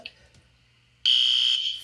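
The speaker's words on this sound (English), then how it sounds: "The fire alarm, do you hear that? The fire alarm is going." An indoor fire alarm suddenly starts blaring partway through, a loud, steady high-pitched electronic tone that continues without break after a brief quiet stretch.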